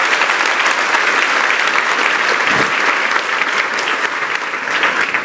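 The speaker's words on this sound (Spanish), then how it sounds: "Y dale un aplauso, que se caiga este techo precioso." A church congregation bursts into loud, enthusiastic applause, a thick continuous roar of clapping with a slight dip toward the end.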